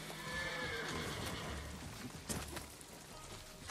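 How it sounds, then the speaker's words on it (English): A horse in the Ghost of Tsushima video game neighs and its hooves clop over a busy background of rain-like noise, with a sharp knock partway through and no talking. "Is this your horse?"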